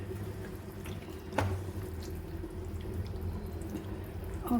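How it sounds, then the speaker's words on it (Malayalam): A little water is poured into a pan of simmering liver curry. It makes a soft, faint splash and trickle, with one sharper knock early on and low kitchen background throughout. "നമുക്ക് ഇത്തിരി വെള്ളം ഒഴിച്ച് കൊടുക്കാം"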